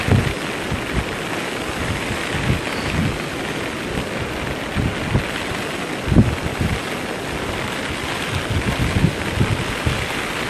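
Heavy rain and strong wind lash the front beach at Boracay in a steady, loud roar with gusting bursts, no voices heard.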